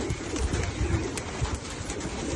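Low, rolling coos from a group of caged pigeons, steady and fairly close, blending into a busy background murmur.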